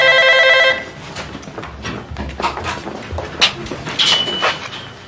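A telephone rings briefly with a bright electronic trill, then cuts off, followed by clattering handling noises and a short high beep.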